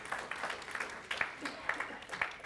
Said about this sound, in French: On peut applaudir pour eux parce que c'est une équipe efficace.